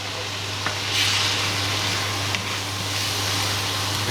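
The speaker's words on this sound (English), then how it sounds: "Now you want to add your tomatoes. This is 400 gram tin of finely chopped tomatoes." Steady close sizzle of a sausage casserole frying in a pan over medium heat as a 400 g tin of finely chopped tomatoes goes in, with a brief soft clatter partway through.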